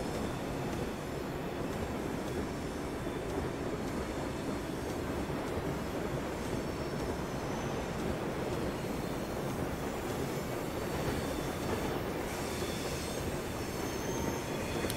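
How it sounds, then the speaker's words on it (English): A train in the Train Sim 2019 simulator runs past a freight train on the Trent Valley line, giving a loud, steady rumble with wheel squeal and rail noise throughout and no talking. "So yeah, coming past the freight train."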